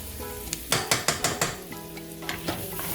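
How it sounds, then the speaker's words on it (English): Frozen meatballs being stirred in a hot pan for spaghetti and meatballs: a run of sharp scraping, clattering strokes over a steady sizzle, close and fairly loud, then a couple more stirs near the end. "give these a stir. So they are frozen."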